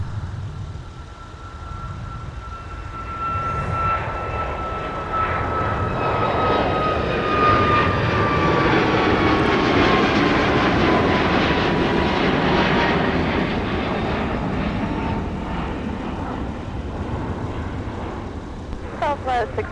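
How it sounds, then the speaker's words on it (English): Boeing 737 departing runway 30 left at MSP airport in winter, a loud sustained jet engine roar with a whining tone that sweeps downward as the aircraft climbs away, with faint wind noise. "Troy 186 traffic just departing runway 30 left, the Boeing 737"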